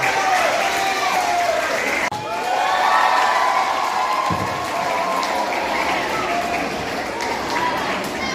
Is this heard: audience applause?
yes